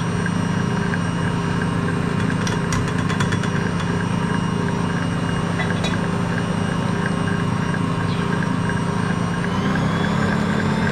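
An Ankarsrum stand mixer runs steadily, whizzing rum cake batter with spices and cinnamon, giving a continuous motor hum with a low mechanical drone and no talking.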